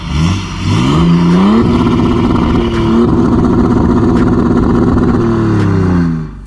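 A BMW 325d E92 coupe diesel exhaust with the rear silencer removed revs up and holds a loud, throaty drone, then drops back as the throttle eases, heard up close.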